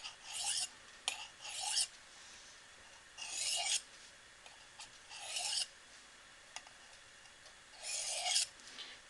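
A knife is drawn across a sharpening stone in light, quick strokes, a series of short scraping rasps in uneven bursts with quiet gaps between them, faint and close, with no talking.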